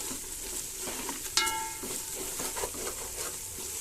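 Spices and biryani masala sauté in a pan for mutton biryani, giving a continuous close sizzle with stirring scrapes and one brief metallic clink.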